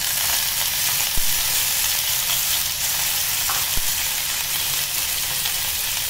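Mint leaves, green chillies and garlic sautéing in a pan for pudina chutney, giving a loud, steady sizzle and crackle of hot oil with a couple of faint utensil taps, and no talking.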